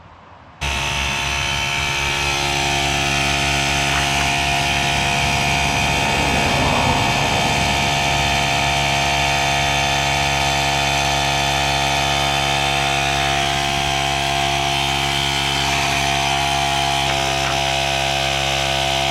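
A portable air compressor starts abruptly and runs continuously with a loud, steady mechanical drone and whine while inflating a motorcycle tire, with no talking.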